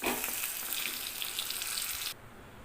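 Sun-dried curd chillies (ooru mirapakayalu) frying in hot oil give a steady close hiss and crackle that cuts off abruptly near the end, leaving a quieter background.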